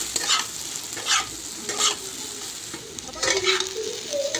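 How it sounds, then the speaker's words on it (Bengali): Sago pearls are stirred and fried in a pan over a medium flame, giving a steady sizzle broken by four scraping stirring strokes at irregular intervals, close up with no voices. "তো বারবার নেড়ে চেড়ে সাবুগুলোকে ভেজে নিতে"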